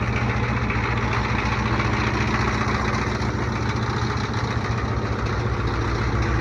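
An old Ford bullnose tow truck engine idles with a steady, loud, low chugging rumble that runs unbroken and close up, with faint clanking mixed into the drone.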